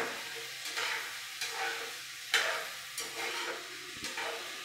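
Okra, or ladies' finger, frying in a pan, a close sizzle broken by several sharp scraping stirs spaced about a second apart.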